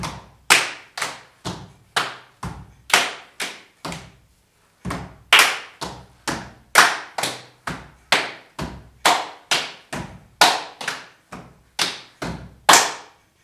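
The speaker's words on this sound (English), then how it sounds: "Then we have another clap." A group claps their hands together in a steady rhythm, sharp loud claps repeating evenly in sets with short pauses between, close with no talking.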